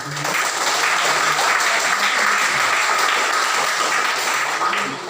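A school crowd applauds steadily at a high school in Mapi Regency, a dense wash of clapping that holds for several seconds before tapering slightly at the end.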